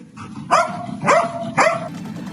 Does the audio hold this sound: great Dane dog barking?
yes